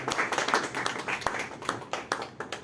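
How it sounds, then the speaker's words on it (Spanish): Audience applause for a speaker at a book presentation in a bookshop: a short burst of dense, many-handed clapping, close and steady throughout. "Démosles un fuerte aplauso al hermano Miguel Ángel Alcarria"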